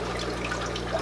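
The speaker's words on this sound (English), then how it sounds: "pour the dechlorinated water over it, boom, clean" Dechlorinated water pours steadily over aquarium rocks held in a big net, giving a close, continuous splashing trickle with a low hum in the background and no talking.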